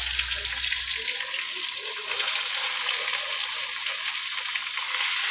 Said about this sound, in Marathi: तेलात टाकूया कांद्याची पात